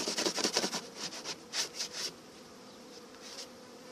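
Honeybees buzz close by at a hive in early spring in a steady drone, with brief louder swells as individual insects pass near, fading somewhat toward the end.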